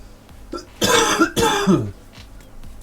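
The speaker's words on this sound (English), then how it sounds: "this cough needs to go away" Two harsh, close coughs in quick succession, raspy and throaty, followed by quiet breathing.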